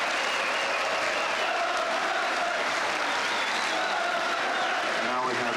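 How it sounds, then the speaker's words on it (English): Dense, continuous applause from a large football stadium crowd fills the air, steady and loud throughout, with a faint voice heard near the end. "listen now to the applause as Charlton leaves league football"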